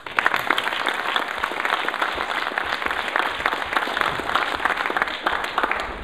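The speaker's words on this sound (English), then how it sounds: "Just give yourselves a round of applause." A crowd at a Startup Weekend pitch event applauds after the final presentations, a continuous, even wash of clapping with no talk over it.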